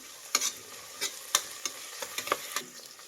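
A spoon stirs green peas pulao with mint in a pan, a series of soft scraping strokes and light clinks over a quiet low hiss, close by and fairly faint with no voices.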